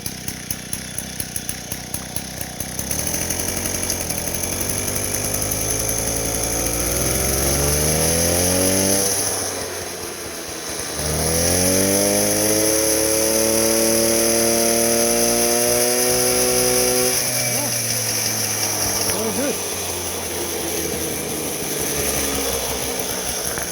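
A small two-stroke engine revs up hard and holds a high, buzzing whine, drops briefly, then screams back to full throttle before settling to a steady drone.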